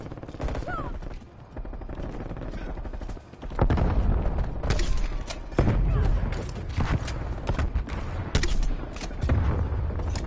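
Grenade launcher blasts in a first-person shooter game ring out as repeated loud booms and thuds amid a dense stretch of gunfire, with several heavy impacts spread across the clip.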